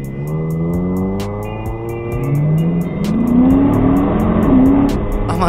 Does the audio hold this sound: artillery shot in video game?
no